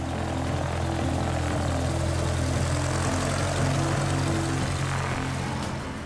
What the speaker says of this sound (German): Das Flugzeug war für den rastlosen Bilderjäger Schließler ein unentbehrlicher Helfer